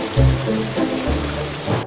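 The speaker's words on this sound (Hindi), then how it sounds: "ओ, बारिश हो गई।" Monsoon rain falls steadily as a dense, even hiss, with a low droning hum running underneath throughout.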